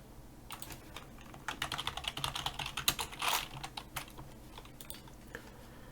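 Someone types on a computer keyboard, producing quiet, rapid clusters of keystrokes that come in uneven bursts, with no talking.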